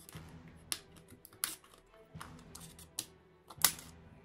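Thick plastic sheet being cut for a 28mm-scale frigate model, heard as a handful of crisp, separate snips and clicks at close range in a quiet room, with no talking.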